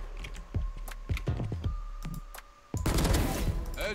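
Gunfire bursts in the tactical shooter game Valorant, several sharp shots scattered through the first half, then a louder, denser burst of rapid fire closing out the moment.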